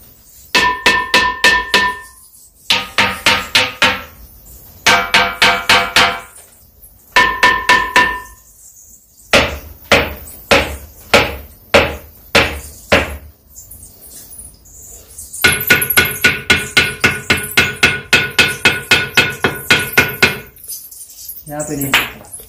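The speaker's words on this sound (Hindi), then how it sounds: "यहाँ पे म्यूजिकल रॉक है, यहाँ पे पांच पत्थर है जो अलग अलग साउंड निकालते हैं" Musical rocks inside a cave at Gupteshwar Mahadev temple are struck one after another, ringing out in sharp metallic clinks with distinct pitches, in quick repeated runs and pauses, loud and close with a slight echo.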